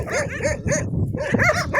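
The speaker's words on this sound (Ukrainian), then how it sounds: "відігнав я все-таки тих собак" Several dogs bark rapidly and excitedly, loud and close, their barks overlapping in a continuous agitated chorus.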